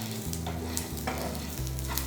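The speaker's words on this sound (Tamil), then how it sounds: "இது எல்லாத்தையுமே நல்லா வறுத்துக்கலாம்." Steady sizzling and crackling of spices and cashews frying in a pan for pepper rice, with occasional stirring scrapes, continuous and close.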